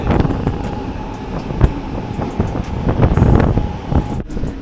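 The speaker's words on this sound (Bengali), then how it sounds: "দেখো প্রথম দিনে কিন্তু ট্রেন মোটামুটি ভালো স্পিডে চলছে।" A local train on the Krishnanagar to Azimganj route runs at speed, heard from inside as a loud, steady rumble with rattling and wind rush, plus a few sharper clanks near the end.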